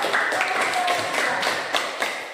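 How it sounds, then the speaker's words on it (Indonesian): A class claps together during a lesson, a quick run of brisk, close handclaps lasting a couple of seconds. "Iya, tepuk tangan."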